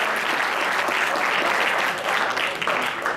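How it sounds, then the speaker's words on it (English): A room of spectators at a wrestling awards gathering gives a loud, dense round of applause, continuous clapping filling the whole few seconds without a break. "Give him a round of applause."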